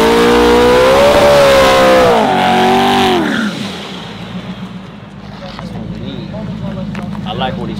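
A twin-turbo Coyote F-150 and a turbo AWD Honda Civic hatchback race, loud engines revving hard with climbing then falling pitch, settling into a rougher, quieter drone as they pull away, with voices talking over it.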